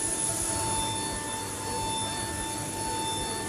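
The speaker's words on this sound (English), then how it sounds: "It's such a loud aeroplane." Boeing 727-200F jet engines in Microsoft Flight Simulator, a loud, continuous, steady roar with high whining tones over broadband rumble and no talk.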